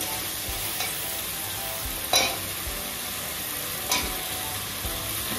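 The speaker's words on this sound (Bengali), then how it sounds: "এখন আমি এই খাসির পায়াটাকে দিয়ে দিচ্ছি" Mutton trotters frying in a spiced masala, a soft steady sizzle with occasional scraping stirs and a couple of louder knocks against the pan.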